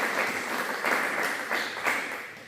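A church congregation clapping in waves of applause, moderately distant and diffuse, rising and falling in loud bursts with a faint murmur of voices underneath.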